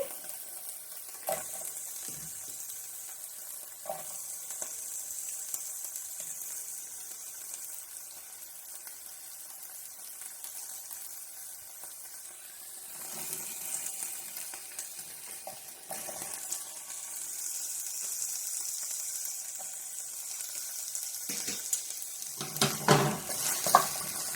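Zucchini sizzling in a hot pan, a steady frying hiss running throughout, with occasional soft stirring clatters near the end; no one speaks.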